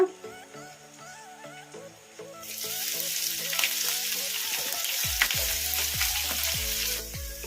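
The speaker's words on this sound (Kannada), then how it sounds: "ಈ ಹಸಿಮೆಣಸಿನ್ಕಾಯಿ ಎಣ್ಣೆಗೆ ಫ್ರೈ ಆಗಬೇಕು ಚೆನ್ನಾಗಿ" Finely chopped green chilies frying in hot oil with mustard seeds and cumin for spicy masala bread toast, a steady loud sizzle that swells after a quieter start, with occasional spatula knocks.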